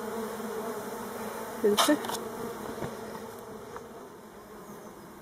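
Honeybees buzzing around a Warré hive, a steady swarm drone close by with a brief louder flyby near the mic, and a voice speaking briefly.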